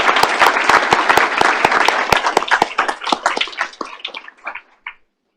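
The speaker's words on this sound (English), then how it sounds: "I ask you to please join me in a round of applause for these people." A modest group in a meeting room of the Federal Energy Regulatory Commission gives a round of applause, crisp individual claps close and loud at first, thinning out and fading to silence after about five seconds.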